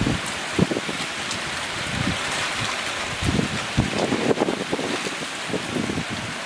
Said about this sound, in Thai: ลมแรงเนี่ยเสียงพายุเสียงลมพัดกระจกดังเปี้ยๆเลยตอนนี้